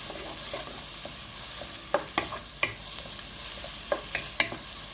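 Ginger garlic paste frying in a pan over a constant low sizzle, with repeated sharp clinks and scrapes from a spoon stirring at an irregular rhythm, close and alone.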